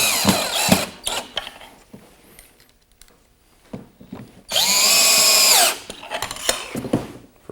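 A power drill drives fine thread screws into hardwood, one sustained whine of about a second rising in pitch, close by, surrounded by handling clatter and knocks from the workpiece.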